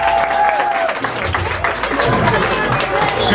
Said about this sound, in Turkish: Hocam bir alkış.